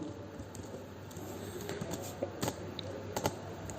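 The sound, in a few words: typing C program code on computer keyboard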